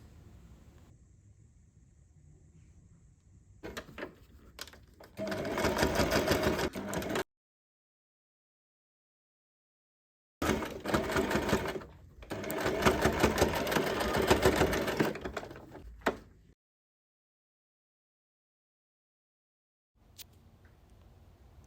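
A sewing machine stitches a seam on a Japanese slouchy tote bag in two long bursts of running, separated by silence, with a brief start at the very end.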